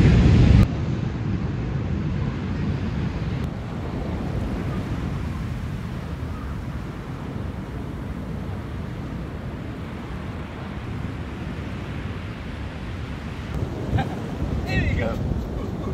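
Wind and surf on a cold beach at sunset, a steady roar of waves mixed with gusty wind buffeting the microphone.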